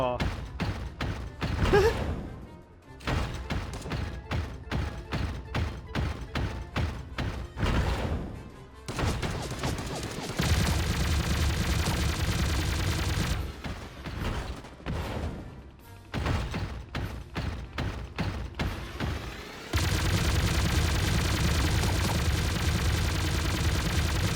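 Gunfire in the Sausage Man battle game: rapid bursts of automatic shots in choppy clusters, then long stretches of steady sustained firing, loud and close.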